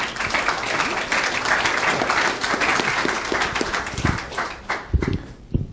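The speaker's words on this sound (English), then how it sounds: "Let's give a round of applause." Brisk applause from an audience at a business event's main stage, dense at first, then thinning out into a few scattered final claps.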